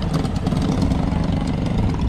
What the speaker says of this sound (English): Got it coming through on the mini bikes.